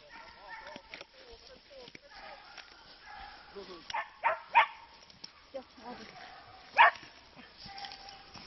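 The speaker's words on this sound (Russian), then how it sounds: "Умница собака какая!" A dog gives a few short, sharp barks and yips, fairly close, scattered among soft movement and quiet background sounds during a search outdoors.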